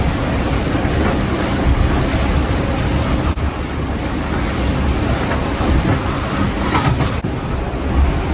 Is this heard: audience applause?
no